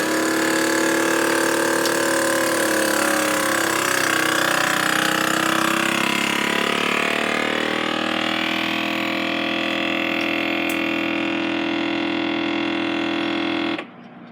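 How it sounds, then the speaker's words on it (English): A SUNGLIFE food vacuum sealer runs in moist mode with a steady, loud motor drone and a tonal whine for about fourteen seconds, then cuts off abruptly. "Now I want to put it on the vac seal, and I want moist."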